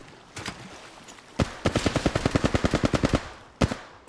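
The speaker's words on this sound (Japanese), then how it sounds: "よう、こっちは撃たれてる" Gunfire in the mobile battle-royale game Apex Legends Mobile: a couple of early shots, then a rapid automatic burst of about fifteen evenly spaced rounds, followed after a pause by one more loud shot.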